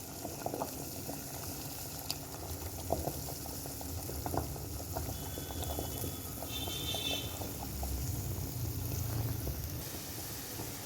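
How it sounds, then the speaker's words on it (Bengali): Water heating in a cooking pot makes a low, continuous bubbling rumble with small irregular pops, close by and fairly quiet, with no voices over it. "প্রথমে জল গরম বসিয়ে দিয়েছি হাঁড়িতে"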